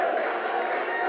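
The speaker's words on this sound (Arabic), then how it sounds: "والجمهور السعودي فرحان، الجمهور السعودي فرحان بالهدف" A Saudi football crowd roars at a goal during a 1988 Asian youth cup match against Indonesia in Thailand, a dense, sustained stadium cheer heard steady and loud for a brief moment.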